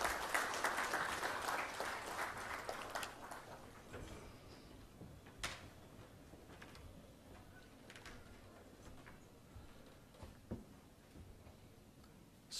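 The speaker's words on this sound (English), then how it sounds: "May I request the esteemed gathering to give a big round of applause." Applause for the Chief Minister of Manipur at a ministers' gathering in Imphal. A quiet, distant burst of clapping fills the first few seconds, then thins to scattered claps and light room knocks.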